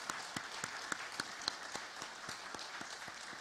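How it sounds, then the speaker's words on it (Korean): A church congregation applauds with steady, fairly faint clapping that keeps an even rhythm for a few seconds, with no talking over it. "우리 박수로 다시 한번 격려해 드렸으면 좋겠습니다."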